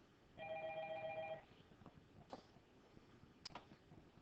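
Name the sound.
telephone ringing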